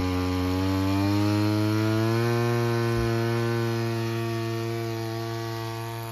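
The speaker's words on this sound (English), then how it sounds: "Right now I'm bumping it back up to a high idle speed." A cheap gas-powered water pump engine rises to a high idle and holds there, a loud, steady, close mechanical drone with a strong harmonic whine running the whole time, no voices.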